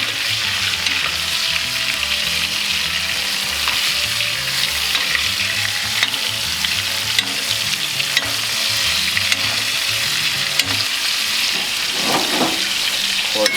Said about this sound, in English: Now, let's baste these a little bit in the butter.